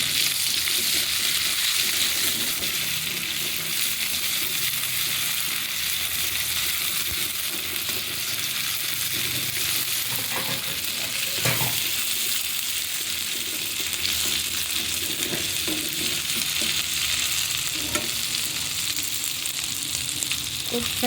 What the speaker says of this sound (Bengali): একটু আদা দিয়ে দেবো, জিরে, ধনে, মশলাটা দিয়ে কষিয়ে নেব